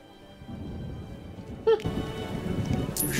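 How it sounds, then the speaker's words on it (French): Steady rain falls in The Witcher video game, a constant patter with a sharp sound burst partway through and a continuing hiss afterward. "Il pleut comme une vache. La pluie."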